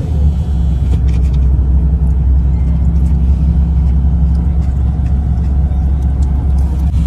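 Road traffic moves along a street in Legazpi City, heard as a loud, steady, close rumble of engines and tyres, with no talking.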